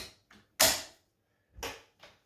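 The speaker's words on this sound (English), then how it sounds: "Put your plate back on." A plate is set back onto a vintage Kenmore 540 sewing machine, giving a few sharp metallic clicks and clunks with quiet gaps between them, close by.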